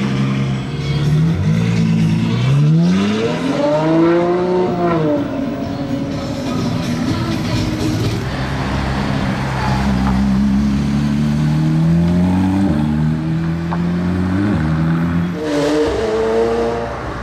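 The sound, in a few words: sports car engine revving with Novitec exhaust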